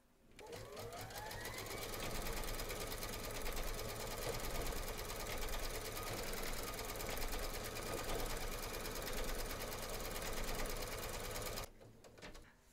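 An embroidery machine satin stitches and quilts a section in the hoop for a teddy and unicorn bag, with a steady, rapid whirring hum that spins up at the start and cuts off just before the end.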